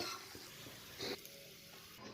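Bori (dried lentil dumplings) fry quietly in a pan before yardlong beans are added, a soft close sizzle with a few light scrapes.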